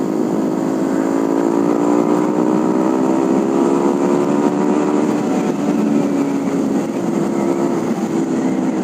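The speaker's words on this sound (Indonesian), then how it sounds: "Suara knalpot gue kurang gahar, jadi orang nggak minggir." A Honda CB150R motorcycle with its engine and exhaust running at a steady, loud drone, close by, the pitch slowly rising and falling with gentle changes in revs.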